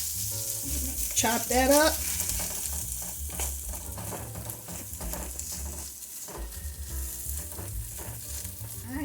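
Dry day-old rice frying and being stirred in a hot pan for shrimp fried rice, a steady close sizzle with scraping stirs, while a person speaks briefly near the start.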